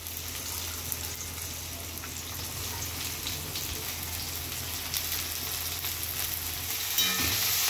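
Chopped onion sizzles and fries with curry leaves in a hot pan for a Marathwada-style breakfast, a steady close crackle throughout with no talking.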